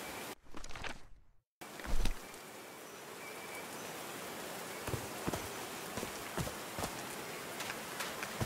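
Steady rain falls and patters on a surface in the video game Call of the Sea, with scattered louder drops, after a brief muffled burst and a moment of silence at the start.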